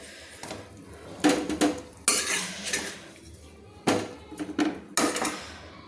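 A spoon scrapes and clinks against a frying pan while lifting out fried potatoes and kohlrabi, several sharp metallic scoops spaced irregularly and heard close up.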